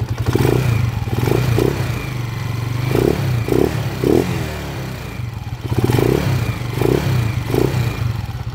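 Honda TMX 155 motorcycle with a rough timing gear, running on a test drive, a loud close engine rumble with rhythmic clattering bursts and rising revs.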